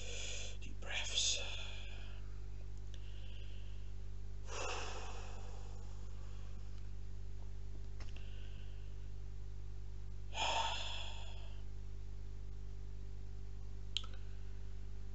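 Deep breaths taken close to a microphone, with three long audible inhales or exhalations spread several seconds apart over a steady low electrical hum and faint clicks, and no talking in between.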